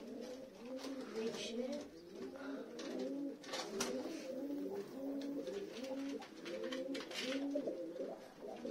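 Pigeons cooing in soft, repeated rolling phrases, fairly close, with faint voices talking over them.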